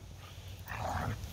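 A submissive young dog whimpers and softly yelps up close, a brief whiny burst rising near the end over a low rumbling background.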